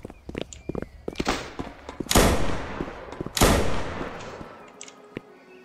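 Video game gunfire: two loud booming shots about a second apart, each with a long decaying tail, amid scattered clicks, thumps and footstep-like taps, then fading to quiet.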